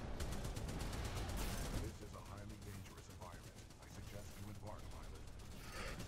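Rapid automatic gunfire in the shooter game Titanfall 2 rattles loudly and continuously at first, then carries on more thinly beneath a player's voice.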